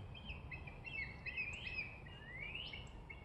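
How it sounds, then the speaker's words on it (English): Outdoors at a quiet Civil War-era fort, a few small birds chirp in short, thin rising calls, faint and distant over a soft background hush. "Birds chirping."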